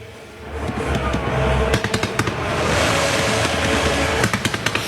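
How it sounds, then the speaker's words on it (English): Huge pyrotechnic fireworks burst into the sky above the MCG during the 2022 AFL preliminary final between Geelong and Brisbane, a run of sharp cracks and pops over a loud, constant stadium crowd roar. "Huge pyrotechnics, fireworks explode into the sky above the MCG."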